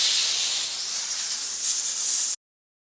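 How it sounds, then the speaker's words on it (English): Compressed air blasts to clean a filter sieve, a loud, close, continuous hiss lasting about two seconds before cutting off abruptly into silence. "Now, use compressed air"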